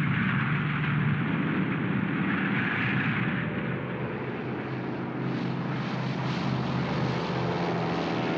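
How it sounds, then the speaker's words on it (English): World War II aircraft, including Liberators, Lightnings, Mitchell attack planes and Beaufighters, drone overhead in the Pacific theater; a loud, continuous roar of propeller engines swells and shifts slightly in pitch without letting up. "349 aircraft, Liberators, Lightnings, Mitchell attack planes,"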